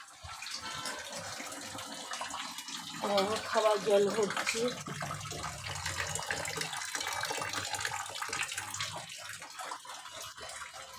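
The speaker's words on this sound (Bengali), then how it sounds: "এখন এই খাওয়ার জল ভরছি, খাবার জল ভরছি।" Drinking water runs from a tap into containers, a steady close gush of flowing water whose pitch shifts as a vessel fills partway through, with soft voices faintly underneath.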